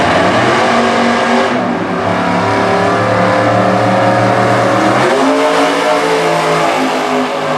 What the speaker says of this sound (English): Watch these drivers turn the trans brake button loose,